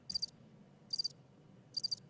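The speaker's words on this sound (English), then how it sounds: "I need a new crickets sound there" A crickets sound-effect button plays three short, evenly spaced bursts of high trilling chirps, quiet and isolated against near silence.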